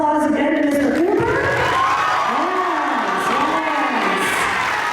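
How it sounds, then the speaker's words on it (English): Students at a high school award ceremony cheering and shouting loudly in a sustained crowd roar, with rising and falling vocal whoops and scattered clapping mixed in. "So give a big round of applause again to Mr. Cooper."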